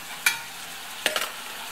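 Onion and carrot frying in a pot, with a steady soft sizzle underneath a few sharp scraping stirs of a utensil, close and with no talking.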